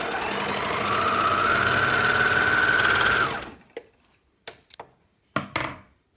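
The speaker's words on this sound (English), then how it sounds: "the machine will pull it in to sew it" An overlocker sewing fabric hums loudly and steadily for about three seconds, then stops, followed by a few sharp mechanical clicks and taps nearby.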